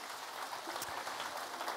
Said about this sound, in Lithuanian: Paplokit dar, man patinka plojimai